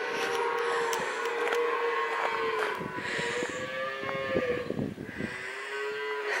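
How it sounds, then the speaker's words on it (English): Several cows on a farm moo in long, drawn-out calls, overlapping one another over a few seconds, fairly close with some rustling in between. "I can hear some moo-moos"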